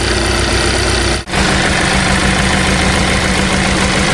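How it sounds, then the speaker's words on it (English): A car engine idling with a misfire, shaking hard, gives a loud, close, rough uneven rumble with a brief dip partway through, otherwise continuous and without speech. "As you can see, the engine's misfire is shaking a lot."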